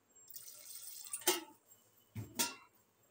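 Water poured into a pressure cooker holding washed kidney beans, a few quiet splashing bursts close by, with no talking.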